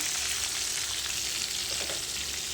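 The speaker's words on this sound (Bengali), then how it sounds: "আলুটা ভাজা হচ্ছে" Potatoes frying in oil with turmeric and salt, a steady close hiss and sizzle with light crackle and a low rumble beneath, continuous with no talk.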